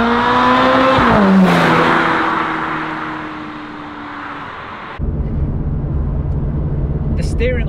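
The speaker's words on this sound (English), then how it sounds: "when you get the valves open, when you're pushing on a bit, it's a sort of baritone sort of sound" A Ferrari 430 Scuderia engine revs loudly with its exhaust valves open, rising in pitch and then falling away before a harsh roar returns, close and dominant, while someone talks over it.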